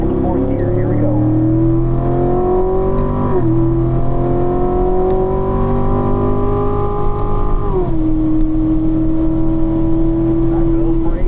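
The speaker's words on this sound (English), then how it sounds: "Full throttle, foot to the floor, up to 4th gear" A car on a racetrack at a driving school accelerates hard at full throttle, its engine note climbing steadily, dropping at two quick upshifts into 4th gear, then pulling again, loud and close with a voice talking over it.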